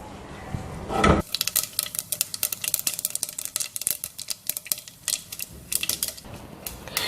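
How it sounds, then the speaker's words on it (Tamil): Rapid, irregular crackling and popping, like mustard seeds spluttering in hot oil, dense bursts of sharp snaps close by, with no voices. "கடுகு நல்லா பொரியட்டும்."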